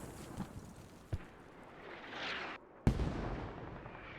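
Mortar fire in a multiplayer war video game: a few sharp, distant-sounding thuds and blasts, one strong impact near the end, over a low rumbling background.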